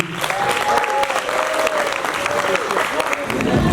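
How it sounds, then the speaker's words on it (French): Loud, dense applause and cheering from a crowd at a cultural festival evening in the Beauce, Quebec, continuous clapping with a few shouted voices over it. "Par applaudissement, je dis où sont les Québécois d'ici?"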